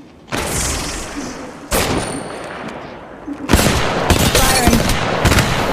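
Gunfire in the mobile battle-royale shooter Apex Legends Mobile, loud broadband bursts starting abruptly and continuing in dense repeated volleys, growing busier toward the end, with no one talking over it.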